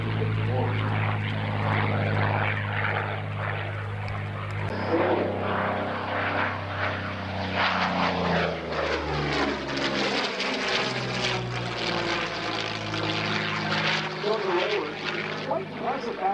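P-40N Warhawk propeller warplane flying past at an airshow, its piston engine droning loudly as it sweeps by with a clear rising then falling pitch, over crowd ambience.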